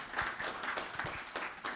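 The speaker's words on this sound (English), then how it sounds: "I think that deserves an applause." Conference audience applauding during a leadership panel, brief soft clapping with faint, slightly rhythmic claps that sounds distant and quiet.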